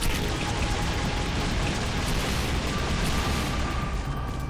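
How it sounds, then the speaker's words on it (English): Bombardment in the video game Rogue Continuum: a dense, continuous roar of explosions and crackling impacts that stays loud and steady throughout, with no voices. "we're getting bombarded here"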